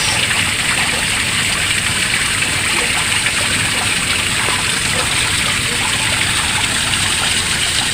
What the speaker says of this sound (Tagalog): Karilak sa utak kung ganitong may tunog ng tubig na umaagos.